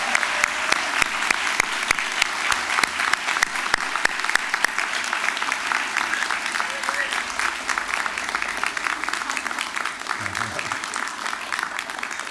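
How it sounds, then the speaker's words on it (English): An audience at a spring university convocation ceremony applauds friends and family, sustained and even clapping from a large room with many individual claps audible, continuing at steady strength for the full duration. "join me in a round of applause for your amazing friends and family"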